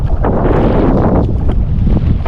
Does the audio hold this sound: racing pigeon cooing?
no